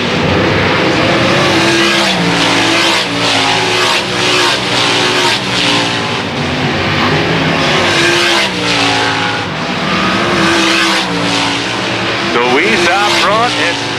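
Race cars roaring around an oval track during the Kevin Gobrecht Classic, engines loud and continuous with rising and falling revs as the pack passes, under a race announcer's steady commentary.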